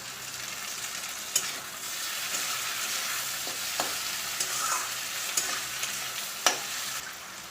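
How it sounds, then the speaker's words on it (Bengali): Onions sizzle steadily in a pan with tomatoes added, a continuous close hiss broken by several sharp stirring scrapes and clicks. "আমি দেখো পেঁয়াজটা ভেজে নিচ্ছি। আর আমি টমেটোগুলো দিয়ে দিলাম।"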